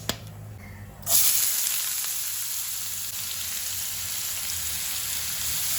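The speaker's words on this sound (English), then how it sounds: "Now let's fry this onions till they have softened up a bit." Chopped onions hitting a hot pan with a sudden sizzle that settles into a steady, close frying hiss, with no voices.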